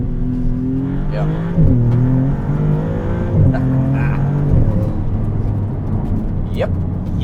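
A stripped-out Porsche Boxster race car accelerates on a road, its engine note climbing through several rising pulls close by while people talk over it.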